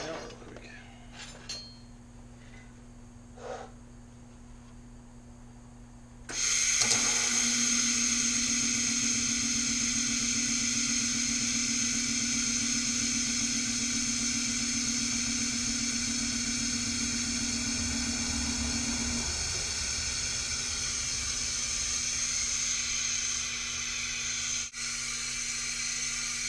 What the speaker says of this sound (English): We'll weld this thing out real quick.